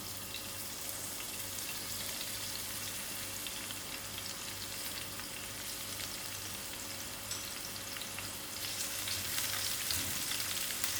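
Onions frying in hot oil over a moderate flame, a dense, even crackling sizzle that runs steadily for about eleven seconds at close range, growing slightly louder toward the end, with no voices.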